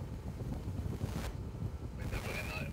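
Strong wind blows at sea, a steady, loud roar buffeting the microphone throughout, with brief rustling bursts near the end.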